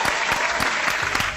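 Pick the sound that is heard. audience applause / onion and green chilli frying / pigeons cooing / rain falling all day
audience applause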